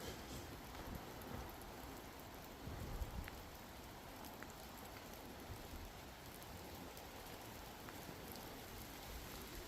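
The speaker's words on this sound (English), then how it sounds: "I hope my phone survives this rain." Steady rain falling in an old cemetery with 17th-century graves, a dense even hiss with scattered drops pattering close by, continuous and fairly quiet with no voices.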